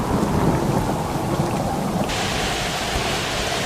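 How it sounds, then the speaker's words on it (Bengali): Heavy rain pours down in a dense, constant roar during an evening thunderstorm while deep thunder rumbles underneath, close and loud throughout. "সেদিন সন্ধ্যা থেকে শুরু হলো খুব ঝড় বৃষ্টি।"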